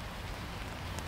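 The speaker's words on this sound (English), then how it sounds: "So we're here today sheltering under this beautiful tree. It's a very rainy day" Steady rain falls in a park on a very rainy day, heard from under a sheltering tree as a dense, even hiss of drops pattering on the surrounding surfaces, with no voices.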